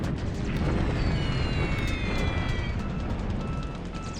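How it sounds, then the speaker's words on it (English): Dense, continuous rumble of bombing explosions from the Focus Pacific strategy game, a loud, steady roar of overlapping blasts with sharp bursts scattered through it, easing slightly near the end. "So much bombing."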